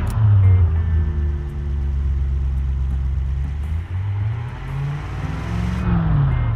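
A 60-degree V engine in the Automation game revving high, a loud, steady, smooth harmonic drone that sags slightly mid-way and climbs again near the end, heard alone.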